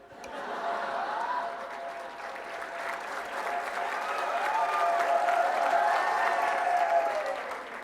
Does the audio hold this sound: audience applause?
yes